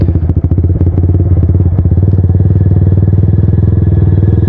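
Scooter engine revving hard during a wheelie, a loud, close, pulsing mid-pitched drone with a few clattering thumps near the start and no talking.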